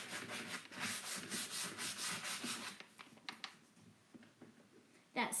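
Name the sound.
sanding a wooden hope chest smooth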